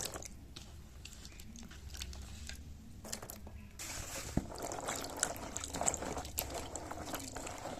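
Water sloshes and splashes gently as cut figs are rinsed in a bowl, soft wet squishing and handling sounds continuing steadily, close and fairly quiet with no talk.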